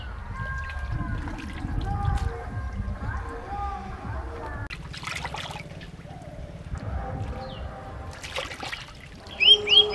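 Fish are rinsed in pond water, with splashing, trickling and sloshing as they are handled, while a person talks over the washing and a brief louder splash comes near the end.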